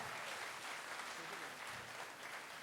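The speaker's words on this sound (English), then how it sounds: "give them another huge round of applause" A crowd applauding at a live stage show of kathak dance, ghazal and Sufi music, a steady, even wash of many clapping hands heard faintly and from a distance, with no gaps through the whole stretch.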